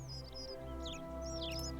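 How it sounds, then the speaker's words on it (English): Birds chirping in the video game The Forgotten City, short bright twittering calls in a few bursts, faint over a steady low background hum. "Those birds are very loud."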